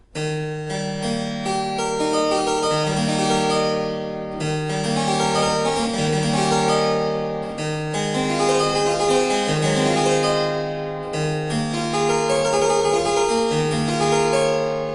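Harpsichord plays a continuous flowing Bach prelude, steady bright plucked notes in running patterns with brief pauses between phrases, loud and close.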